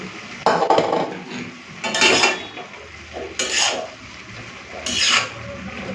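Prawns and bottle gourd being mixed in an iron wok, with four bursts of metallic scraping and rasping at a steady interval, fairly close, no talking.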